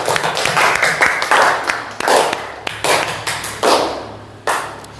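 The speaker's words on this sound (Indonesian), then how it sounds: "kita tepuk tangan untuk kita semua" A class of students claps hands together in an Indonesian classroom, a brisk series of sharp, close claps in uneven bursts with brief pauses between them.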